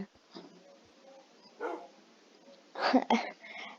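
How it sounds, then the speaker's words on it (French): Excited dogs barking in a quiet space, a few scattered yips and whines early, then a burst of loud, close barks near the end. "Là, les chiens, regarde. Regardez. Regardez les chiens comme ils sont excités."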